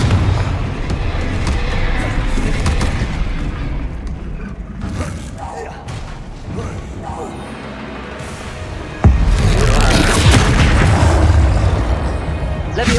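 Spell explosions from the Confringo fire spell in the game Hogwarts Legacy, dull booms and bursts over game music, with a louder blast near the end; a voice calls out spell names.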